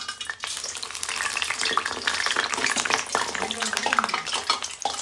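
Rice flour jantikalu frying in hot oil give a busy, continuous sizzle with crackling bursts and occasional utensil clinks, close and steady throughout.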